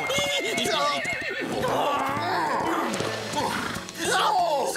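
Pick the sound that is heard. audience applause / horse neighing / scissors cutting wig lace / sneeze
horse neighing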